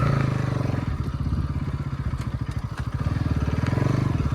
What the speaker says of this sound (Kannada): ಸೆಕೆಂಡ್ ಗೇರಲ್ಲಿ ಎಕ್ಸ್ತಾ ಇದ್ದೀನಿ ವಿತ್ ಅ ಪಿಲಿಯನರ್. ಸೊ ಆದರೂ ಕಂಫರ್ಟಬಲ್ ಆಗಿ ಹೋಗ್ತಾ ಇದೆ ಗಾಡಿ.